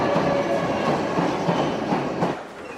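A London Underground train on the Olympia service from Earl's Court runs steadily with rattling wheels and a low roar, close and loud, easing slightly at the end.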